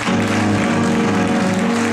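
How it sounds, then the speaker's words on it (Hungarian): A loud, steady wall of clapping from a Hungarian musical stage-show audience, saluting a police captain, sustained and dense throughout with no gaps or talking. "azt külön tapsoljuk meg"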